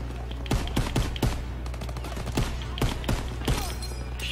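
Sharp gunshots in a Call of Duty World War II game crack one after another in irregular single shots and short bursts over a constant low hum, loud and close.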